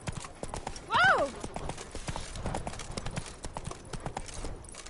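A horse in The Witcher 3 trots with steady close clip-clopping hooves, and one loud whinny rings out near the start over the continuing footfalls.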